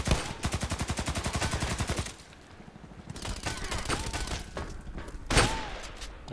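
Rapid automatic gunfire from the shooter game Contract Wars: a loud, evenly spaced burst for about two seconds, then quieter scattered shots and another sharp burst near the end.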